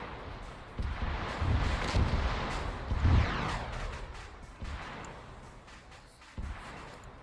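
.50 caliber machine gun on a vehicle in an Arma Zeus-run combat operation, heard as a run of heavy, thudding bursts at irregular intervals, fairly distant and partly smeared by a rushing, wind-like background.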